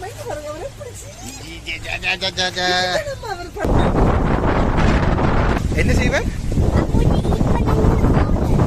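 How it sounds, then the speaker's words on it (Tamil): Strong wind blasts into the microphone at Acorn Farm in the UK, a loud, continuous low rumbling roar that starts suddenly after a few seconds of people talking and keeps battering throughout. "சரியான காத்து."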